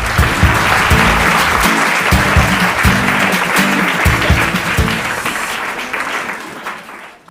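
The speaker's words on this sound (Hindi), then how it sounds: "जोरदार तालियां हो जाए" A studio audience on the quiz show Kaun Banega Champion bursts into loud, sustained applause with rhythmic music underneath, fading toward the end.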